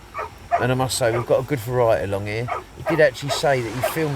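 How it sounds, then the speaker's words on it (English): A dog on a beach gives a run of yips and whimpering barks close by, mixed under someone talking over it. "Sorry about that, that's a dog, hang on a minute."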